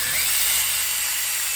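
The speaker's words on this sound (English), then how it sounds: "I've got my 220 grit sandpaper on there. I've got the speed down slow. I turn it about 250 RPM. And this is called power sanding." A wood lathe spins green end-grain wood at about 250 RPM while 220 grit sandpaper is power sanded against it, giving a steady high, hissing whir that fades slightly toward the end, with no talk.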